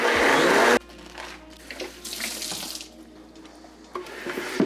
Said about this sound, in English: I'm gonna give it one rinse and then I'm gonna fill it up again with some warm water